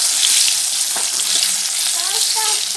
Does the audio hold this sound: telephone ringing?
no